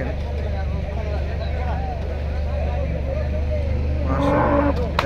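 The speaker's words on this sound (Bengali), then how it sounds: "আর একটা গরু আসছে দেখেন মাশাআল্লাহ খুব সুন্দর একটা পাকড়া গরু দেখেন" Cattle low at the Hazratpur cow haat, a busy livestock market, with drawn-out moos under a steady crowd hum while people talk nearby.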